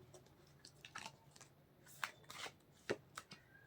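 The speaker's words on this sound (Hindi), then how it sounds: "मुझे बहुत अच्छा लगता है जब कार्ड उड़ जाते हैं ऐसे" Tarot cards being shuffled by hand, with soft, scattered riffling and a few sharper snaps as cards fly loose, faint and close.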